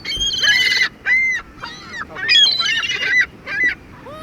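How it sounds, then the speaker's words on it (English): A flock of geese on the Lake Michigan shore near a pier honks in loud, overlapping bursts, several calls jostling together with short pauses between clusters, close by and clear over a low outdoor hush. "We got a long line of these birds."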